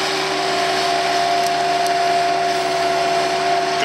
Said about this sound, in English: You can do a lot with the skid steer.